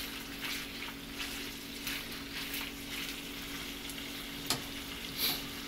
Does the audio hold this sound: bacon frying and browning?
yes